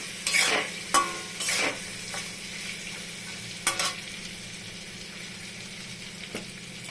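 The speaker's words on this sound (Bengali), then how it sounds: "এখন দিয়ে নাড়াচাড়া করে একটু সজনাটা দিব আর কি। সজনাটা দিলাম" Drumstick and bitter gourd curry frying in a pan while being stirred, several loud scraping strokes of a spatula with hissing sizzle, clustered early and then sparser, close up and without talking.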